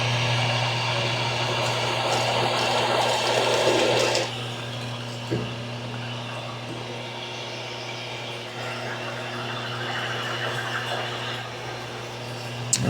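An electric drill bores a hole into a bowling ball, giving a steady whirring whine with a strong hum that shifts in tone partway through, plus a brief knock, and no speech.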